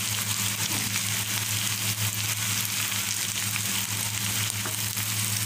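Bitter gourd and onion frying in a pan, giving a steady, loud, close sizzle with a constant low hum beneath and faint stirring scrapes, no voices.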